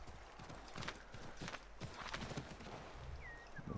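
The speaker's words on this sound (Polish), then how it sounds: "Bierzemy za to konia" Horse hooves clip-clopping at a quick gallop in Assassin's Creed III, a steady rapid rhythm of hoofbeats close by over a busy game soundscape.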